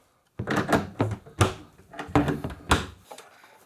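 A wooden door is worked back into its frame in a woodworking shop, giving a run of about seven close, loud knocks and thuds in quick succession, then silence.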